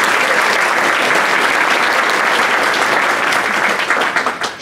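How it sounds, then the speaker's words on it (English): A school audience at an elementary school show claps loudly and steadily in a dense, sustained burst of applause that tapers off slightly at the end. "Let's give them another round of applause."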